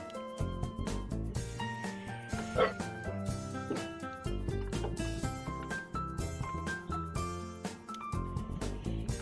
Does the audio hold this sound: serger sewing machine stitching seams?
no